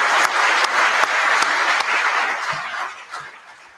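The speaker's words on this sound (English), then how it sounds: "Let's get another round of applause for the panel that just spoke." A conference audience applauds a panel that has just spoken, with dense, loud clapping from many hands that tapers off over about four seconds.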